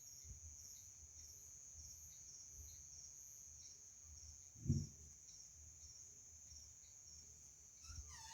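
Crickets chirp softly at night beside a traditional Saint Anthony bonfire, a faint steady insect trill running through the whole stretch, broken once by a brief low thump near the middle.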